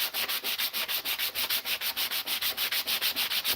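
A plastic-welded custom brush guard for a Volvo XC70 being sanded smooth with filler, quick even back-and-forth rubbing strokes up close, steady and unbroken with no voices.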